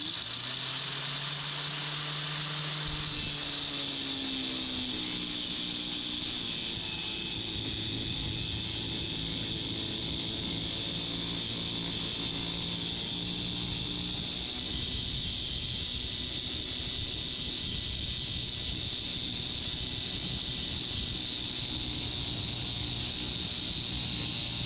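A 4 1/2-inch electric angle grinder with a diamond cutting wheel spins up after a few seconds and then runs continuously with a high, steady whine and a droning rumble beneath.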